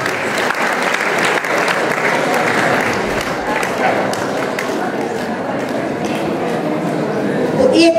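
A large audience applauds at an award ceremony in Uzbekistan, a loud, dense, continuous clapping that fills the whole stretch evenly and swells slightly at the end.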